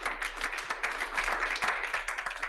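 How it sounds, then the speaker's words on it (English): An audience gives a warm round of applause for an event's organizing team at a talk series, dense overlapping claps rising and falling steadily throughout, close and full with no speech. "So please give them a round of applause."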